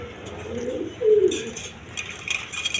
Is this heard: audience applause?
no